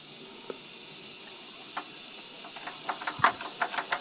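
A 1930s Bing twin-cylinder toy steam engine lets off a steady, soft hiss of steam, with a series of small sharp ticks and puffs growing busier toward the end.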